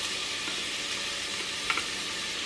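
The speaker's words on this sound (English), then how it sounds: "Now that this is brought to heat, I'm going to add my onions." Onions, about three-quarters of one, sizzle in hot olive oil in a pan: a steady, close, even frying hiss with a couple of brief sharper crackles and no voices.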